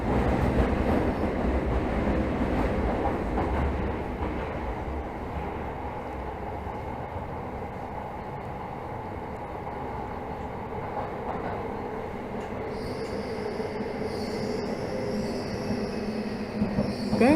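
Tokyo Metro Hibiya Line 13000 series subway train running underground, a continuous rumble of wheels on rails with clattering and a high squeal of wheels near the end, recorded from inside the car.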